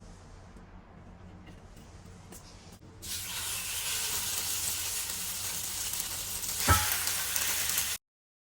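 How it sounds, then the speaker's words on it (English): Lamb shanks hit hot oil and break into a loud, steady sizzle that holds for about five seconds, with one brief louder spatter near the end, after a quieter stretch of low kitchen background. "as soon as my oil is hot enough, I'm gonna add in the shanks and brown them"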